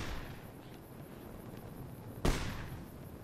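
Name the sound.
gunfire in video game Fallout New Vegas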